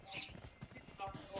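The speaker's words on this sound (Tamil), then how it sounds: "சைக்கிள் என் பக்கத்துல ஏதோ குதிரை சவுண்ட் கேக்குதுனா" Hooves clip-clop from a horse in PUBG's Livik mode, a quick run of soft, distant-sounding thuds under faint game ambience, with players talking over it.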